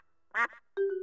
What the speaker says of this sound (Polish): Kaczka kwacze.